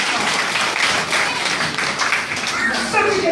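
A church congregation applauds with dense, continuous clapping that fills the space, near and fairly loud, with voices speaking and calling out over it.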